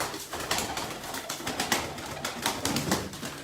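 Pigeons at a bird market, a steady chorus of cooing and soft calls that goes on throughout, with a few brief wing flutters close by.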